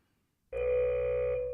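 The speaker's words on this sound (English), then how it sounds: "Warning alarm." A warning alarm sound effect: after a half-second of silence, a loud, sustained electronic buzzing tone switches on abruptly and holds steady to the end.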